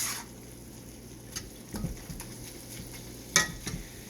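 Ground beef browning over turned-up heat in a pan, a soft steady sizzle with occasional scrapes and clinks of a utensil stirring and pushing the meat around.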